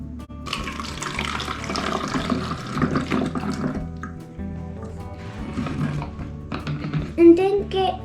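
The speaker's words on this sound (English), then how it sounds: "first, get a funnel and put it on the cap of, and then pour your vinegar into the bottle" Vinegar pours through a funnel into a bottle for a balloon-inflating experiment, a steady liquid trickle running for several seconds over a tonal, music-like background.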